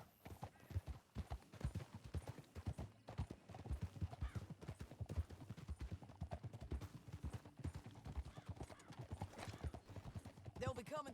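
Rapid hoofbeats pound steadily throughout as a horse gallops in Red Dead Redemption 2, loud and continuous, with no gaps in the rhythm.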